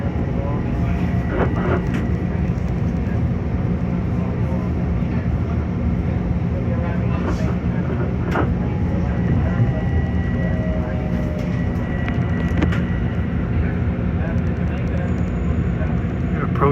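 Long Island Rail Road train rumbling along the main line near Hall interlocking and Jamaica, a Port Jefferson bound train passing alongside; a steady, loud low rumble with wheel and rail clatter throughout, with no one speaking.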